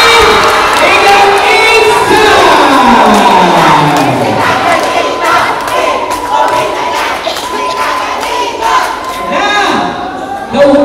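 A packed crowd at an inter-barangay volleyball tournament match roars with loud, sustained cheering, shouts and whoops that fill the whole stretch, swelling and dipping slightly with occasional thuds beneath.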